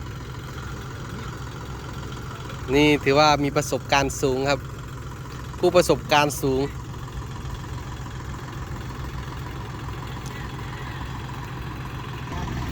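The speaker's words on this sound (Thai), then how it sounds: "โอ้นี่มันต้องเร่งเครื่องประมาณนี้เลยทุกคน" A vehicle stuck in mud runs its engine in a continuous low drone under the whole stretch, with no distinct revving bursts. Someone talks over it in two short bursts.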